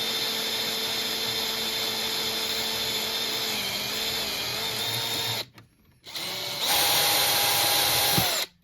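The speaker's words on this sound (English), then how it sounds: "let's drill the other one too" Power drill boring out a solder-filled port hole on an Apple IIGS, a steady close whine that stops briefly, then resumes louder before cutting off.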